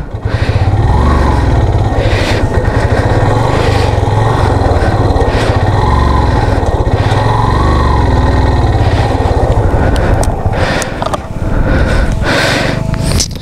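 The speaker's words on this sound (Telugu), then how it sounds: "నా బైక్ స్టక్ అయింది ఇప్పుడు" A motorcycle engine, bike stuck off-road in Ladakh, drones loud and close for over ten seconds, surging and revving in repeated pushes with a rough, uneven throttle.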